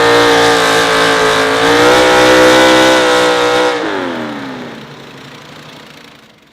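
A big Ford-powered four-wheel-drive pulling truck roars at high, sustained revs while dragging a sled, then the engine note drops sharply and fades away as the pull ends.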